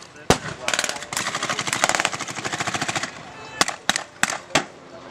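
Battle gunfire in a village skirmish: a near, loud burst of rapid machine-gun fire running for about three seconds, bracketed by single sharp gunshots before and after.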